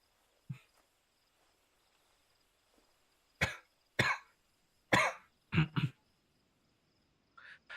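A person coughs in several separate bursts, some in quick pairs, close and fairly loud against a quiet room with faint background hum.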